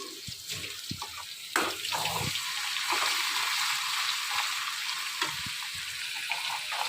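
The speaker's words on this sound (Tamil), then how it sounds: "இஞ்சி பூண்டு பேஸ்ட் போட்ட உடனே அந்த சவுண்டு, அதோடைய ஸ்மெல் எல்லாமே வந்து வாவ் சூப்பராக இருக்கும்" Ginger garlic paste hits hot oil in a pan for poori potato masala, giving a loud, steady sizzle and crackle that rises abruptly and holds, with a few clinks of a spoon.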